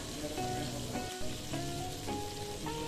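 Chili, tomatoes, shallots and shrimp paste sizzling in oil, a continuous near crackling fry with brief pops and a momentary stir clatter, no voices.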